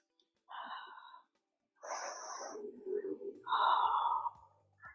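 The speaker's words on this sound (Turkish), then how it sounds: "Nefesi burnundan al, ağızdan yumuşak boşalt." Breathing during an upper-body workout, in through the nose and out through the mouth, heard as three soft, close breath sounds with short pauses between them and no talk.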